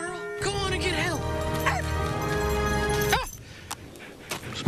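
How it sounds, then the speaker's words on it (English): Dog whimpering and whining in a TV commercial, a series of wavering high cries over a steady musical backing, ending with a short yip at the close. "Smart dog."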